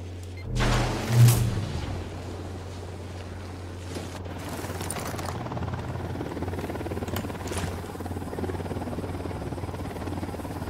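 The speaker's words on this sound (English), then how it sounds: "Chopper inbound." A helicopter approaches in the video game Ghost Recon Wildlands, a low steady rotor drone that runs through the whole stretch after a brief louder burst near the start, with no talk over it.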